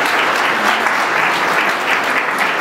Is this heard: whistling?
no